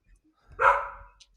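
A single sharp dog bark rings out indoors, loud and close, followed by a brief fainter yip, with a quiet background around it.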